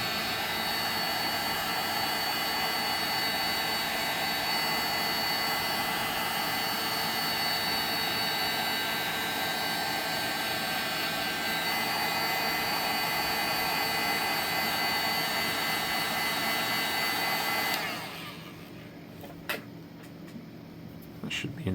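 A heat gun blows a steady, loud, roaring hiss while warming an artificial duck foot, running continuously at close range for most of the stretch before it cuts off and leaves faint handling noises.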